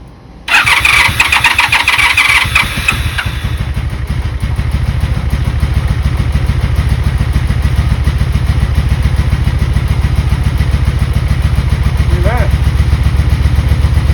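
A long-unused Honda Magna motorcycle engine cranks, fires up and settles into a loud, steady running rumble close by.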